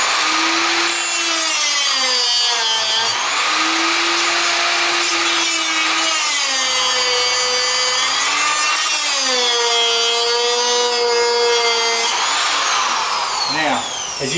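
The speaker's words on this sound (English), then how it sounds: "I'll take my jigsaw and I'll cut this corner out" A jigsaw cuts the corner of a Formica countertop in a bathroom sink install, its loud, close buzzing blade rising and falling in pitch as the cut progresses, then stopping near the end.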